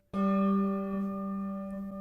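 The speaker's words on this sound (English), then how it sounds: "if we ring the bell and then gently touch it to the foam pad" A single handbell strike rings out with a clear sustained tone, then fades gently while still humming to the end as the bell is touched to a foam pad.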